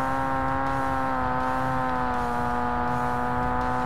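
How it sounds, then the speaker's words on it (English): A car engine drones loudly and steadily in the racing game Forza Motorsport, a sustained, evenly held tone with strong harmonic whine and no pauses. "This car is still really fucking loud."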